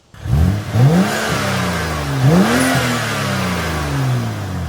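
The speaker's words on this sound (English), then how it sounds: "So see, the stock airbox doesn't sound all that bad. You can still hear the blow-off valve." A BMW F10 535i turbocharged engine with its stock airbox revs up and falls back several times nearby, the engine note rising and dropping in smooth sweeps over a steady idle.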